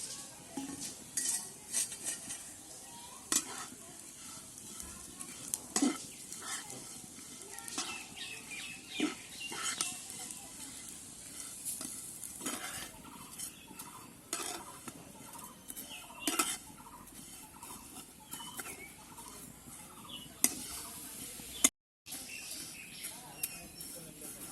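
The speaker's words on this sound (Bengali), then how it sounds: "এবারে সেমাইটা ভেজে নেব।" Vermicelli frying in ghee in a pan, stirred with a utensil: repeated scraping and clinking strokes over a faint sizzle, close by, with some quiet speech.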